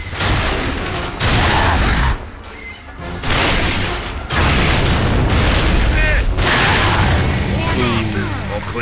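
A grenade explodes in Gears of War, a series of loud, heavy booms with rumbling tails and short pauses between, close and dominant, with voices mixed in.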